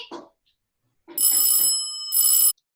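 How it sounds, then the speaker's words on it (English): A bell rings during an online staging of Wizard of Oz, two bright, close chimes: a longer ring followed by a shorter one after a brief gap, preceded by a faint bit of sound. "Ring the bell again, Dorothy."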